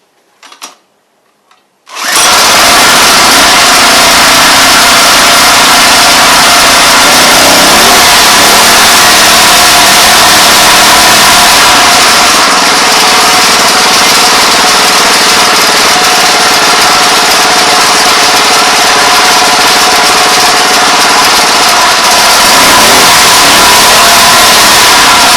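A Homelite 79cc edger's small engine roars to life after a few faint clicks and then runs loud and steady at three-quarter throttle, with a slight rise and fall in pitch, close and alone.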